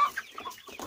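A small chicken, among young chicks and a rooster being shown, gives a few quick soft clucks and chirps close by, brief and alone.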